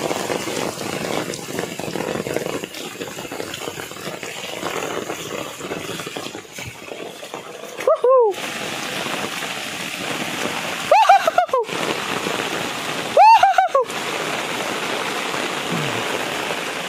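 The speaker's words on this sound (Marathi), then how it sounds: "पाऊस म्हणजे आज काय जगूच देत नाही वाटतं. ढगफुटी झाले वाटतं आज." Heavy rain pours down in a cloudburst, a dense steady hiss of water on surfaces that fills the whole stretch, broken by a few short bursts of other sounds.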